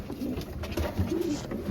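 Racing pigeons in a loft: soft, low, rolling coos repeating several times close by, with a faint background murmur and no clear speech.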